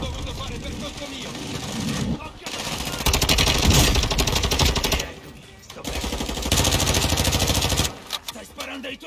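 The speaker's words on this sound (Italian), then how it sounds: "Stai sparando ai tuoi alleati!" Bursts of rapid automatic gunfire in a war video game, loud and dense, broken by short pauses, with voices calling out in the game.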